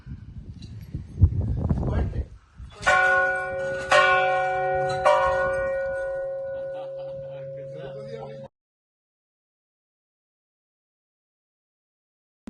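A church bell along the Camino Francés near Molinaseca is rung by hand, striking about four loud, ringing clangs whose tones hang and decay, after a stretch of people talking nearby.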